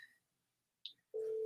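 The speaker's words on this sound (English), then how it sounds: "So let me get her on the phone." A telephone dials out a call: a couple of short, faint tone blips followed by a steady sustained tone, quiet and isolated with no talking.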